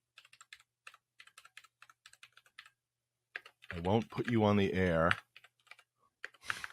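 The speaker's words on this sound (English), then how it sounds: "This is what people want to hear, a guy typing on a podcast, right?" Typing on a computer keyboard during a podcast, bursts of quick key clicks close to the mic, pausing briefly while someone speaks, then resuming.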